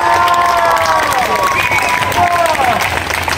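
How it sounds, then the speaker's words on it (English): A Boston street-show crowd cheers and applauds loudly and continuously, with many raised voices whooping over dense clapping throughout. "let me know with a round of applause, Boston."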